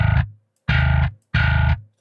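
Three separate synthesized bass notes from the Umansky Bass MIDI virtual instrument, each a strong, sustained tone of about half a second with gaps of silence between, sounding alone and close.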